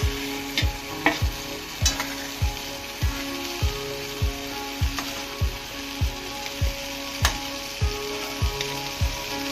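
Masala fries in a pan under a steady sizzle while a spoon scrapes the bottom in a regular rhythm, roughly two strokes a second, each stroke sharp and close.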